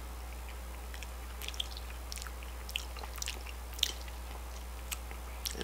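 Cranberry sauce eaten up close, with soft wet chewing and squishy bites, small irregular clicks and smacks over a low constant hum.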